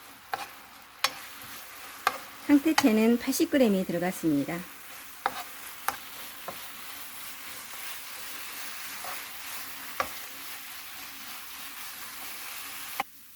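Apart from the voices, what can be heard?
stir-frying dried pollack strips in boiling sauce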